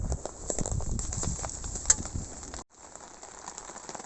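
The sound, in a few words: rain falling again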